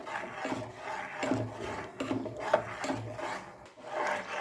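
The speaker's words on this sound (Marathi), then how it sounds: "हा चम्मच फिरवतच राहायचे" A spoon works thick cooking rice papad dough in a pot with continuous rasping, rubbing scrapes that swell and fade in slow strokes, close up and moderately quiet.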